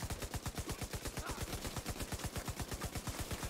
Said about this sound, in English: I'm gonna start shooting at a dude